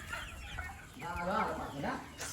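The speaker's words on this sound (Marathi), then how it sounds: "ह्या एवढ्या कोंबड्या आहेत गावठी सगळ्या आहेत" Native village chickens cluck close by on a poultry farm in a short burst of uneven calls, with some faint background noise around them.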